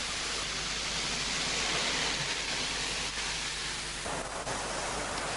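Steady, loud hissing spray of low-pressure hot water at about 75 °C stripping paint from wood siding with STS equipment, a broad continuous rush that shifts slightly near the end.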